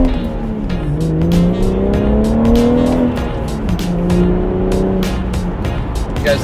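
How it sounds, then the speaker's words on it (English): A 2018 BMW 340i engine runs loud and close, its steady drone rising and falling in pitch as the revs climb and ease back. "Let's hear the engine here."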